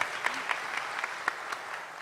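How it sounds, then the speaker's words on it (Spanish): A church congregation applauds the altar servers during Sunday Mass, a steady wash of clapping at moderate distance with a few sharper claps standing out. "Aplauso."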